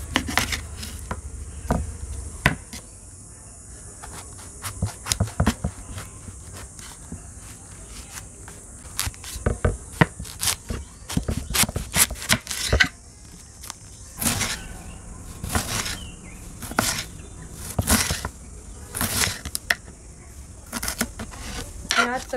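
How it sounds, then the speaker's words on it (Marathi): Knife chopping cabbage finely on a board for Manchurian, heard as clusters of sharp close taps, irregular and sometimes rapid, with short pauses between bursts and a faint background hum. "तर आपण हे आता कापून घेऊयात."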